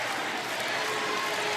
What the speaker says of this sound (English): And the crowd is chanting Terry.